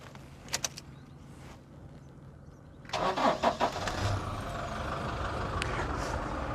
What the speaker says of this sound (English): Okay, the car has started,